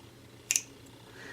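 A single sharp, brief snip cuts through wire while making a wire-wrapped split ring, crisp and close against a quiet background.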